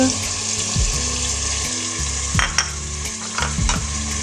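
Spices tossed into a hot frying pot of daal gosht; a steady sizzle with stirring and scraping of a spoon against the pot, up close.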